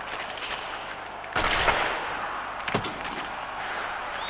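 A hockey puck shot in NHL 06 lands as one sharp, loud crack that rings out alone over arena crowd noise, followed by a smaller knock about a second later.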